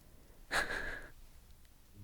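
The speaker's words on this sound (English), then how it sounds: "my puppy is snoring" Puppy snoring softly, a single faint nasal breath lasting about half a second, close and quiet in an otherwise hushed room.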